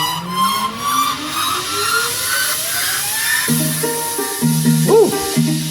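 Soca track in a DJ rework with guitar strings layered over a crash cymbal, a bright busy mix with sustained cymbal wash, a rising pitched sweep and plucked string notes entering midway, steady and loud throughout.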